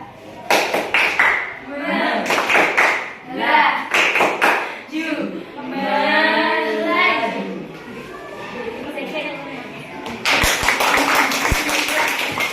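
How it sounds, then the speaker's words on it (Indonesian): Classroom applause breaks out after a student group's presentation: a burst of many hands clapping, then a stretch of children talking, then a second round of clapping toward the end. "Berikan tepuk tangan."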